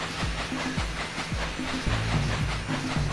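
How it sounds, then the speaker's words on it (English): A rumbling, train-like sound from the video game Jak and Daxter: The Precursor Legacy, heard alone as a dense, loud, continuous wash with a low pulsing throb repeating roughly every half second. "Sound like a fucking train."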